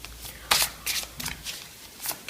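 Tarot cards are gathered up and handled after being dropped, giving a series of short, close papery riffles and slaps with brief gaps between them.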